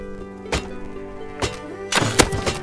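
Several blunt thunks of fire arrows striking in Rust, three separate hits with a denser cluster of impacts near the end, heard over a steady low game background hum.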